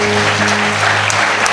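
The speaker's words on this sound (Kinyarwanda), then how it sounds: "Dukomereye Yesu amashyi." A congregation at a prayer gathering claps for Jesus, with dense, continuous applause sustained throughout, loud and close, and a few sharper claps standing out.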